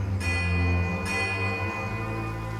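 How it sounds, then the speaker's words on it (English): Two strikes of a single bell toll in the fantasy role-playing game Pillars of Eternity II: Deadfire, each ringing out with a long, shimmering sustain under a steady low ambient hum. "The tolling of a single bell joins the chorus of birdsong."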